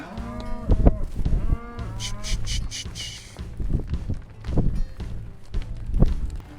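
Cattle being loaded onto a straight livestock trailer moo loudly at close range, with a long drawn-out call early on, then shorter lowing amid shuffling hoof steps and farmyard noise.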